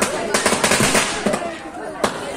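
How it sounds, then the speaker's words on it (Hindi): Firecrackers packed inside a burning homemade Ravan effigy crackle in a fast, loud string of pops that thins out into scattered bangs, with a crowd chattering behind. "बहुत पटाखे कम लगाए थे ना।"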